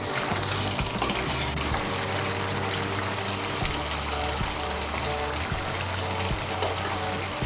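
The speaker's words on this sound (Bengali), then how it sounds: "ধনেপাতা কুচিটাকে মিশিয়ে নেব।" Chopped coriander being stirred into a potato curry in a pan, with a steady close sizzle and the scrape and clatter of the spoon running throughout, loud and continuous with no talk.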